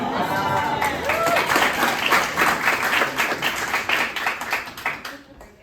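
An audience claps in a steady burst of applause that lasts several seconds, voting for a green Hawaiian blouse at a student drama society Pride show. Cheers and crowd voices mix in, and the applause fades out at the end.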